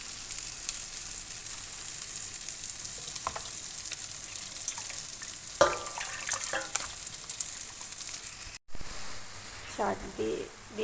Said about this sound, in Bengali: এখন শাক দিয়ে ভালো করে এটাকে ভাজা ভাজা করে নেব